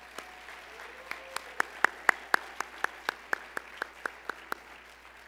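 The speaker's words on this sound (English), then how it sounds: "give another round of applause to our host team" An audience claps for a host team at a closing brunch, a short run of evenly spaced, fairly sharp claps rising then fading, heard at a distance in a quiet room.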